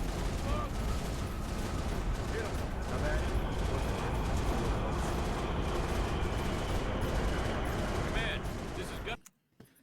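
Dense gunfire crackles and booms in Halo: Reach, a continuous loud barrage of rapid shots and explosions with a voice talking over it, cutting off abruptly near the end.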